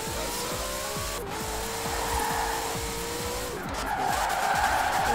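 An RTR Mustang Spec 5 drifts in Forza Horizon 4, its tires squealing in long, sustained howls over a steady engine drone, with the skid pitch dropping and rising as the slide continues.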